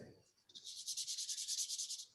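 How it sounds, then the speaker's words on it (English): Close, rhythmic sanding strokes on a scale model by hand, a quick run of about a dozen even rasping passes after a brief quiet start. "I'm going to do a little bit more sanding on this"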